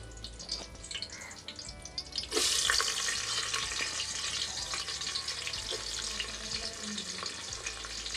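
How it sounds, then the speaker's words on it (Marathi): Onion frying with curry leaves in a pan for masale bhat: a soft, low background at first, then a loud burst of sizzling as the onion goes in, settling into a steady crackling fry. "कांदा आपल्याला थोडासा व्यवस्थित भाजून घ्यावा लागतो"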